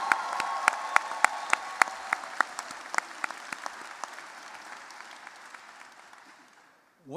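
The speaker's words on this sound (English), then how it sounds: "Let's clap it up" Graduation commencement audience at the University of Baltimore applauding, with sharp, distinct claps standing out over a broad wash of clapping that gradually fades to near silence, then a brief new sound at the very end.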